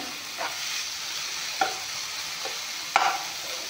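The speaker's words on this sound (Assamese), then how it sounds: "এতিয়া চাওক কবিখিনি ভাজি ল'লোঁ" Cabbage fries in a pan with a steady soft sizzle, broken by a few sharp scrapes and taps of stirring.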